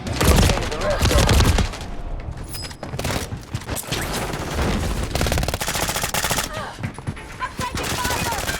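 Sustained automatic and rapid gunfire from a Modern Warfare 3 holiday event match, loud and continuous bursts throughout with explosions and game effects mixed in, no clear talk.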